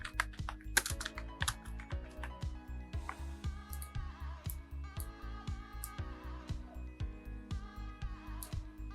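Rapid, steady keystrokes on a computer keyboard during graphic design work in Illustrator, with close, crisp clicks in an uneven rhythm and no one speaking.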